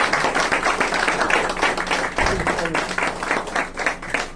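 An audience at an organised event applauds in dense, continuous clapping that stays fairly loud throughout, with a voice faintly present beneath it.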